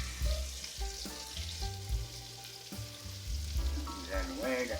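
Garlic frying in a seasoned pan gives a quiet, continuous sizzle and crackle, with occasional scraping stirs and faint tonal sounds in the background.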